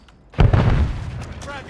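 A stun grenade detonates in Call of Duty Warzone on Rebirth Island: a sudden loud boom after a quiet start, followed by a sustained ringing, crackling tail with a rising high whine near the end.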